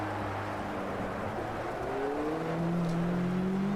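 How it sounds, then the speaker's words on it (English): Race car engines in Automobilista 2's Racin' USA content, a steady droning roar with rising pitch as the cars accelerate, heard continuously and moderately close with no talk. "these new cars from the Racin USA DLC do sound better than some of the cars in the past"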